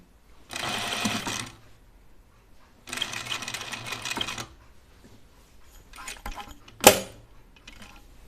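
A sewing machine stitches the edge of a one-yard bias apron in two steady bursts of close, whirring running, followed by a few sharp clicks and a brief clatter of handling.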